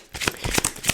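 A deck of oracle cards being shuffled by hand, a quick run of papery riffles and flicks less than a second long, close and fairly loud with no voice.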